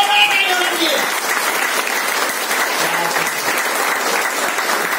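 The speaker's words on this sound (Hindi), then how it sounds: "जोरदार ताली अंकल जी के लिए जोरदार ताली होना चाहिए" A live audience bursts into loud applause at a talk, a thick, continuous wash of clapping. A speaking voice fades out at the start.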